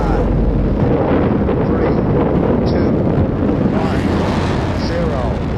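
The Apollo 11 Saturn V engines ignite on the launch pad, a loud, broad, wind-like roar that builds and stays constant, with a spoken countdown voice over the rumble.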